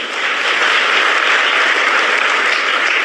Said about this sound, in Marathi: तर तुमच्या सगळ्यांना जे डोनर आहेत त्यांच्यासाठी एकदा टाळ्या वाजवून